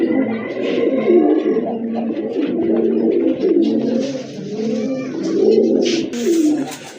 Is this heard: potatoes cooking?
no